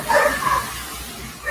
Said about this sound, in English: the dogs will go crazy